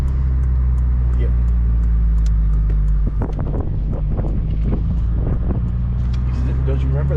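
Tires of a 2009 eighth-generation Honda Civic Si on pavement during a night drive, a steady low road roar with engine hum inside the cabin, while people talk over it.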